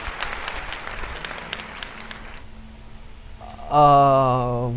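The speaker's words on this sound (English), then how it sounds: "Let's give him a round of applause, shall we?" Brief applause and clapping, with crowd noise and a voice speaking over it, ending in a burst of sound.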